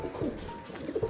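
Pigeons in a home loft coo softly at close range, a few low, rounded calls that repeat in quick succession and rise toward the end.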